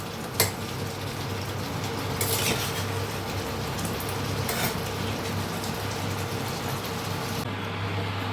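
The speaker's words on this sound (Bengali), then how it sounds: "একটু নেড়ে গরম মশলাগুলো মিশিয়ে দিই।" Homemade garam masala being stirred into frying eggplant masala, a continuous dense sizzle with a few bright scraping strokes of a spoon in the pan, close and steady throughout.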